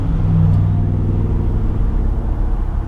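A 2020 Jeep Wrangler Unlimited with a soft top rumbles steadily through a left turn, its engine drone and road noise loud and close, with no talking.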